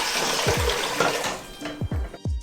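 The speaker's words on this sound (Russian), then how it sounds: "Берем кастрюлю, на дно отправляем тарелку, наполняем водой." Water runs into a cooking pot with a plate set on its bottom, a close splashing pour with several gurgling, swooping bursts as the stream starts and stops.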